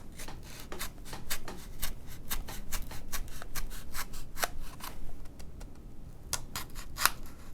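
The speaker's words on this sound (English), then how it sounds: "Next, I'm going to cut the slot for my spline." A blade cuts a spline slot in a small foam model P-40 airplane, giving a close series of sharp, rhythmic snipping or slicing strokes with brief pauses, fairly quiet and alone.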